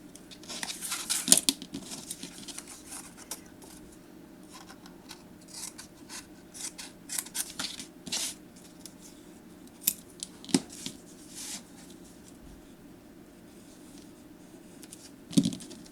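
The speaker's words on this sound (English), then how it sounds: "I'm just going to trim this a little bit." Scissors trimming a sheet of paper for a handmade memory book, with faint, scattered snips and soft rustling spread across a quiet room, a few sharper cuts standing out near the start, middle and end.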